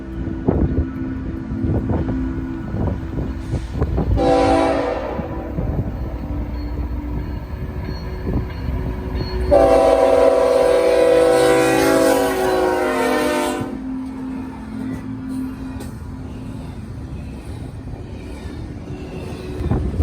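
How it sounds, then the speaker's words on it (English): A northbound intermodal freight train led by an ex-Citirail GEVO locomotive rumbles past loudly under wind noise, sounding two long horn blasts, the second longer and more sustained. "Next was a northbound intermodal bound for Vancouver, British Columbia with an ex-Citirail GEVO on the point."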